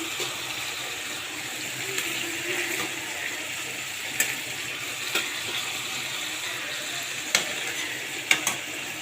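Fried fish pieces go one by one into a simmering curry, a soft steady sizzle with a few sharp clinks and scrapes of stirring, faint and without talk.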